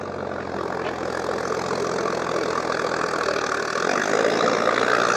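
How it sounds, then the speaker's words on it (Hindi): A Sonalika DI 745 tractor engine labours hard while hauling a heavy load up a slope on loose, soft soil, a dense continuous diesel drone that grows slightly louder toward the end, with no talk. "ट्रैक्टर पूरा जोर लेने लग रही है, चढ़ाई"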